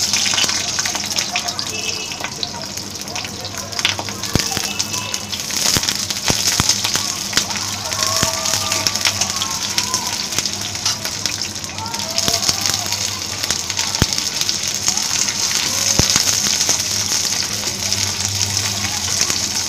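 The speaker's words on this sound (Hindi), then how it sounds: "तो ये मैंने कुकिंग ऑयल डाल दिया है, ये लगभग गर्म हो चुका है। अब हम इसमें वेजिटेबल्स डालेंगे।" Vegetables for chilli baby corn frying in hot cooking oil: a steady, close crackling sizzle continues throughout, with scattered sharper pops.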